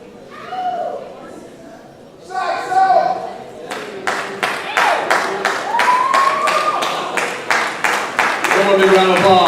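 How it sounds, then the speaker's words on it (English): A band banquet audience applauds the drumline and saxophone section, with sharp, evenly spaced claps building into steady rhythmic clapping, preceded by brief talk and cheering voices nearby. "One big round of applause for the section of the year"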